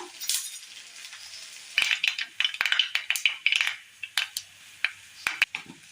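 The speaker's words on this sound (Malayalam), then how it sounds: "കടുകൊന്ന് പൊട്ടി കിട്ടിയിട്ടുണ്ട്" Mustard seeds popping in hot coconut oil in a pan, a dense burst of sharp crackling pops that thins into scattered louder spits, close and alone without talk.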